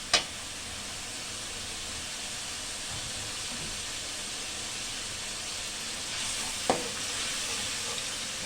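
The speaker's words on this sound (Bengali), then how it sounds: "রসুন, আদা দিয়ে একটু ভাজা ভাজা করছি।" Garlic and ginger fry in hot oil with onion in a pan, giving a steady close sizzle throughout, with a couple of sharp knocks from stirring.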